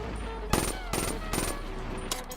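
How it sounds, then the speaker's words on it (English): A video game gun in pulse-fire mode, played on PS4 through an FPS Dominator adapter, lets off four short, loud bursts of fire separated by brief gaps. "with certain guns, see like this one right here, it's pulse shooting, it's pulse firing with the L cars"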